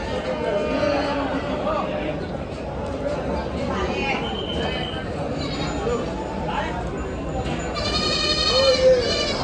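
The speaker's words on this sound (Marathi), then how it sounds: "काही इकडनं पण शेळ्या पाहू शकाल" Several goats bleat at a busy goat and sheep market in Maharashtra, with wavering calls near and far and one loud bleat at the end, over constant crowd chatter and talk.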